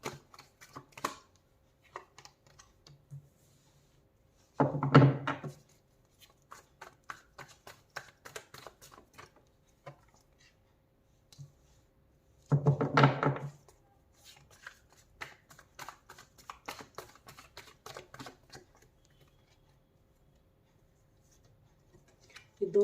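Tarot-style cards for a destiny reading are handled and drawn, giving soft shuffling bursts and frequent light taps and slides of card against card, close and quiet. Faint speech is heard in places.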